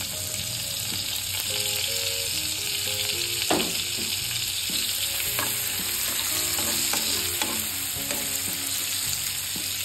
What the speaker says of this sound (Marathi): तो आपल्याला असा गोल्डन कलर होतपर्यंत आपल्याला थोडासा फ्राय करायचा आहे।